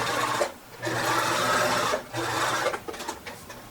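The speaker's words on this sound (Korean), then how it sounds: "지금 처음 박을 때는 되돌아박기 하지 마시고 한 번만 박아주셔도 돼요" A sewing machine runs in bursts through thin lace curtain fabric, whirring steadily in two long runs and then a few short stitches, close and clear with no talking.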